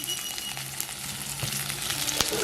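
Onions sizzle and fry in hot oil for a Jaffna-style crab curry, a steady close crackle with occasional stirring scrapes and pops, and no talking.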